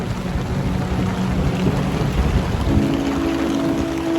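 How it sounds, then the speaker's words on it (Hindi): Heavy rain in Saputara, India pours down in a constant, loud hiss, with a low hum running steadily underneath. "और बहुत ही बारिश हो रही है"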